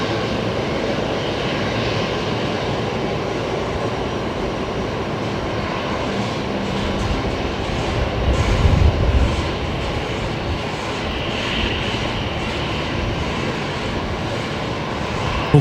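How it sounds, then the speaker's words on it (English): A passenger aircraft arriving to touch down at Brisbane Airport gives a steady, loud engine roar, swelling briefly partway through, heard from a distance with no talk. "We've got an arrival just about to touch down here."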